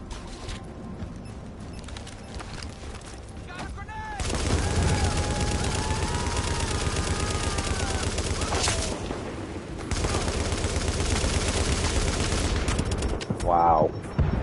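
Sustained gunfire from The Division played on PS5, rattling bursts continuing loud and dense through most of the stretch with brief pauses, mixed with game effects and occasional voice chatter.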